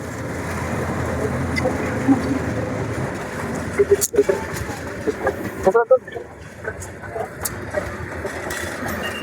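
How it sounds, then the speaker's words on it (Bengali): Tista passenger train pulling away toward Dhaka across the Jamalpur gate crossing, a steady broad rumble of wheels and engine throughout with a few sharper clanks midway and voices mixed in nearby. "তিস্তা ট্রেনটি আবারও ঢাকার উদ্দেশ্যে ছেড়ে যাচ্ছে"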